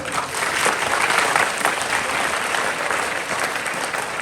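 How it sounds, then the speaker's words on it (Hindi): An audience at a school talk on time, stress and social media claps steadily in a dense, moderately loud wash of applause, holding an even level throughout. "ये सब तालियां आपके लिए बज सकती हैं"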